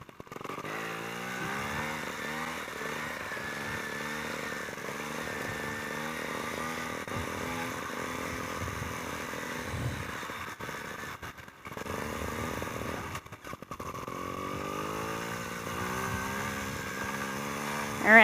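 A trials motorcycle rides on a trail, its engine droning steadily throughout with rising and falling revs, loud and close, briefly dipping twice before picking back up.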